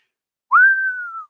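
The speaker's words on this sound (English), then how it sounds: "I hope I didn't actually hurt anybody with that whistle." A loud, sustained human whistle rises sharply and then holds a steady high tone for about three-quarters of a second, slowly fading, alone with no talk around it.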